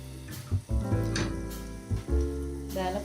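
Hot oil splashed onto chili with a burst of sizzling and crackling, a few sharp surges over a steady hiss, close by and fairly loud.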